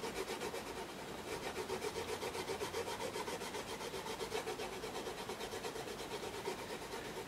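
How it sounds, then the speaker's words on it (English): Graphite being rubbed onto the back of a picture for transferring a pastel pencil drawing: a steady, continuous scratchy rubbing that runs evenly throughout at close range, with no talking. "I'm going to rub graphite onto the back."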